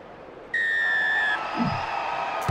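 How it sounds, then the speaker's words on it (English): A referee's whistle starts a rugby match between Gloucester and the Toyota Cheetahs in the video game Rugby Challenge 4. It gives one sharp, steady blast of about a second over a low crowd murmur, followed by brief commentary. "We are underway as the whistle sounds"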